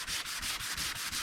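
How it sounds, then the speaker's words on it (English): Wooden coasters sanded by hand, a close, brisk rasping rub repeating in quick back-and-forth strokes, about seven passes in just over a second. "let me finish sanding these"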